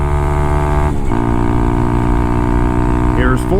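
A Honda Grom motorcycle held wide open, its loud buzzing engine dipping and climbing again as it shifts into fourth gear, then droning steadily at high revs.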